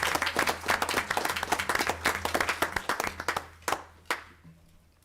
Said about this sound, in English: can we give everybody a hand of applause?